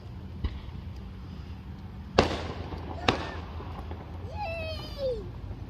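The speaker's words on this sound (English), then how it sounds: "fireworks here. We've got them coming from two different directions." Fourth of July fireworks burst at a distance, a few sharp cracks and booms followed by a rising whistle, with faint voices in the background.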